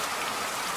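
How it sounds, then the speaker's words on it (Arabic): Steady rain falls as a dense, even hiss of drops on a surface, continuous and fairly loud, with no voices. "Rain."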